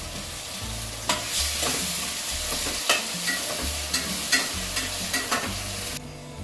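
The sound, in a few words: curd added to frying biryani masala, stirred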